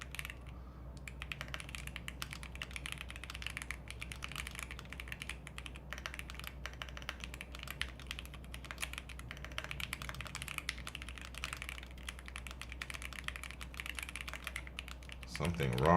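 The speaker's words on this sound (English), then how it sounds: "I think my keyboard is messing up." Computer keyboard typed on continuously at a fast, uneven pace, dense clacking keystrokes close to the microphone over a low steady hum, with a louder bump at the very end.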